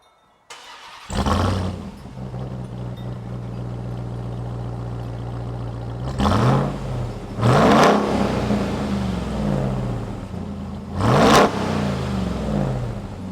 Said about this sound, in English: I'm gonna let you hear this exhaust. Listen to this bad boy.